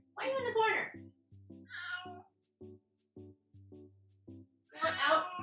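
A cat meows loudly several times up close, long drawn-out cries at the start, middle and end, while a person talks in between.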